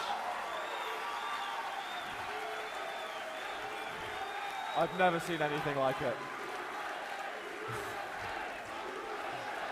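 A crowd cheers and applauds at the QuakeCon 2016 Quake Live grand final. The roar of the audience fills the hall, swelling briefly in the middle, while a commentator talks over it.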